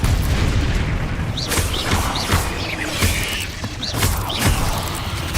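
A spell effect in Hogwarts Legacy, a fantasy action game, bursts out as repeated heavy magical blasts and impacts, several sharp hits over a dense rumbling battle bed, loud and close.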